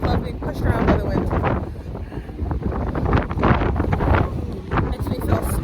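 Strong wind at the Columbia River Gorge buffets the microphone with loud, continuous roaring gusts, rising and falling throughout with no clear talk.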